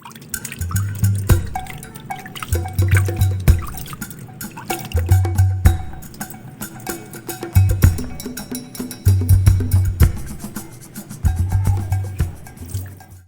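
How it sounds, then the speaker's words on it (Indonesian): Rice-washing water splashes and drips steadily onto the leaves and soil of a Philodendron Paraiso Verde in repeated bursts, close by, with no talking. "Saya siram dengan air cucian beras, bisa dilihat seperti ini."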